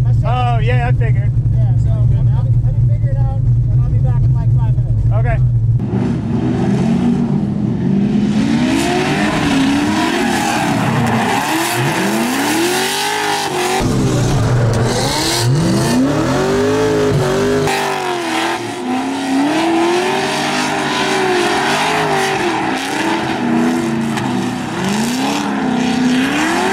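An LS-swapped Mazda Miata revs hard while drifting, its V8 note surging and dropping in repeated sweeps over tire noise, with a person talking throughout.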